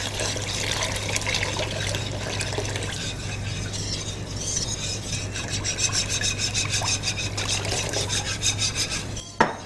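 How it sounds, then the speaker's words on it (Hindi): Water pours steadily into a pot of mixed vegetable curry seasoned with garlic-ginger paste, a continuous rushing, splashing stream heard alone and close, ending with a brief clink. "और पानी मैं इसमें और शामिल करूँगी।"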